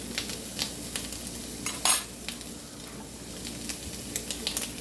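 Onion sizzling in a skillet, a steady hiss broken by repeated utensil scrapes and clinks, with one louder stirring scrape midway.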